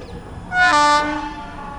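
The August Kranti Rajdhani Express sounding its horn as it approaches, a single loud, bright, sustained blast of about half a second over the low rumble of the passing train.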